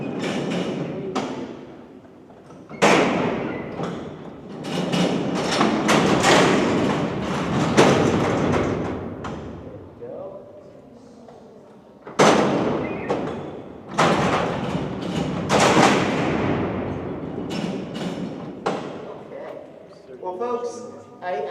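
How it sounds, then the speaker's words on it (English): Alcatraz prison cell doors roll and slam shut in a large echoing cellhouse during a night tour, heavy metallic rumbles and clanks in two long bursts with resonant thuds, ending with a rattling clatter. "I'm going to do the doors one more time here, folks, and so you can hear once again"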